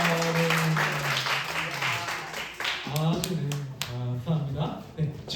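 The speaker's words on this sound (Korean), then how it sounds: "큰 박수 부탁드리겠습니다" A church congregation at a high school youth Sunday service gives a round of applause, mixed with talk from the front. The clapping is strongest in the second half.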